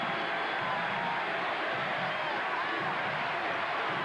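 A crowd inside Hilton Coliseum at a 1993-94 college basketball game between Iowa State and Iowa keeps up a steady, noisy roar of cheering. It sounds broad and continuous, with no distinct voices standing out.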